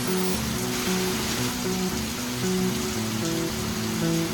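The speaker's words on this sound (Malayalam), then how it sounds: "വൈകുന്നേരം തുടങ്ങിയ മഴയാണ് കേട്ടോ. നല്ല മഴയായിരുന്നു." Heavy evening rain pours down steadily and loudly, a dense continuous hiss with a low musical tone running underneath throughout.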